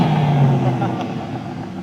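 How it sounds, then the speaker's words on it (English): A BMW M2 G87 LCI with a 3-liter inline-six runs at a steady idle nearby, a low, even rumble continuing underneath voices. "Listen to how she sounds. 3-liter inline 6,"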